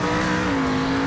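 The monster truck Son of a Digger roars in Monster Jam freestyle, its engine a loud, sustained growl that dips slightly in pitch during a jump, close and without talk.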